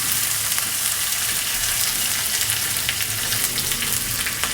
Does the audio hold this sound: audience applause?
no